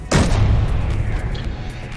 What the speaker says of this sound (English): he batters me with his assault cannons